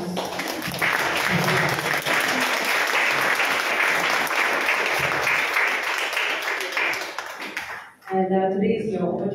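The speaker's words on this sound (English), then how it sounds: "Please, a round of applause." A live audience at a book launch breaks into a sustained round of applause, dense and steady for several seconds before fading out, followed by a voice resuming talk.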